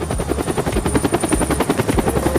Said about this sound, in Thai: นี่เฮลิคอปเตอร์มันขับแบบออโต้นี่หว่า